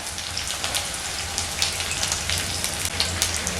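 Onion, garlic and ginger paste sizzle while frying in a pan over a medium flame, giving a dense, steady hiss with crackling pops scattered throughout, close and fairly loud, with no talking.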